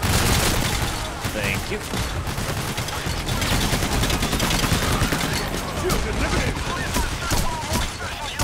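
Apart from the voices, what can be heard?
gunfire in the video game PAYDAY: The Heist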